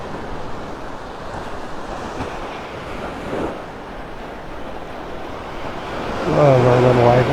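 Small waves wash and break steadily onto a beach in North Naples, Florida, with wind rushing across the microphone; a brief higher tone rises near the end.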